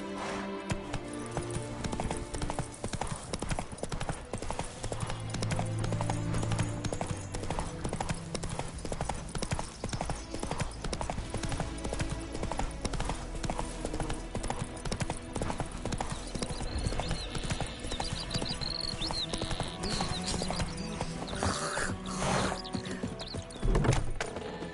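A horse gallops in the video game Witcher 3, its hooves beating out a steady, rapid clip-clop rhythm for the whole stretch, fairly loud and close over a game soundscape.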